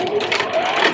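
A sewing machine running as it stitches a quilt block, a brief close mechanical whir with a steady hum and faint rhythmic texture lasting about a second.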